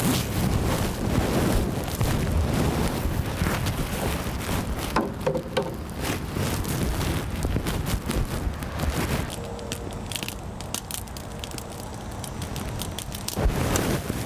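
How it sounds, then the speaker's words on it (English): A compartment fire grows with a heavier fuel load, climbing the wall and spreading across the ceiling, giving a steady, loud roar with crackling throughout and no voices. "as we watch this fire's growth, we can see that it's coming up the wall and then burning across what would be the ceiling of our compartment"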